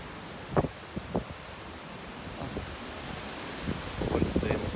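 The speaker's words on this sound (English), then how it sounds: "It is windy." Wind gusts through a park in a broad steady rush, with a few louder buffets near the start and end, and no talking.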